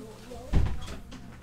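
A door is pushed shut indoors and gives one dull, low thud halfway through, with faint room noise and murmuring voices around it.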